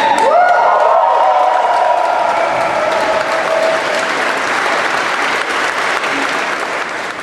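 Graduates at a graduation ceremony break into loud, sustained applause and cheering from a large crowd, with a few whoops rising early before the clapping slowly thins.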